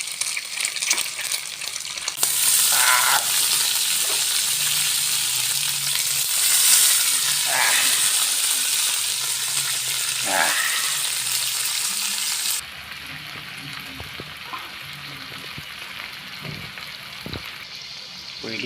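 Fern shoots stir-fried in a hot pan, a steady loud sizzle with intermittent scraping and clinks of a utensil stirring, close up, with a drop in sizzle partway through.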